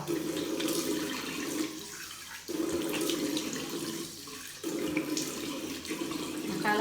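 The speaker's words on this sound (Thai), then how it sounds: "ก็จะล้างออกด้วยน้ำเปล่า" Running tap water rinses soap off, a close splashing flow broken by several brief dips as hands move in and out of the stream, with no talking.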